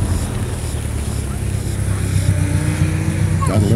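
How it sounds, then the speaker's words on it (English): A 2015 Porsche Cayman runs an autocross course in Central Florida, its engine a loud continuous roar with a faint rising whine as it passes, heard amid open outdoor noise. "Gotta love the sound of those turbos whistling in the wind."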